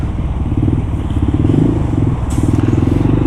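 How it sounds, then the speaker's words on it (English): An idling Kawasaki KLR 650 motorcycle gives a close, steady rhythmic putter with a faint fuel pump hum underneath, lasting the few seconds without talk. "You hear the fuel pump runs"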